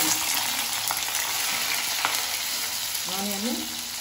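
Green chillies fry in hot oil with a steady, loud sizzle and a few sharp pops. Stirring can be heard as well, and no one speaks.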